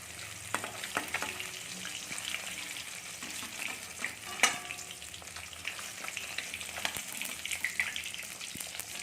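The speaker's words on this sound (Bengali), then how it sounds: "চলুন আমরা মাছগুলো ভেজে নিই" Snakehead fish sizzling steadily in hot oil in a pan, with a dense, continuous crackle, occasional sharper pops and light scraping as the pieces are turned, heard close up with no talking.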